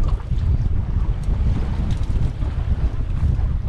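Strong wind buffets a fishing boat at sea off Key West, Florida, a steady loud roaring rumble with gusty microphone noise throughout and no talk.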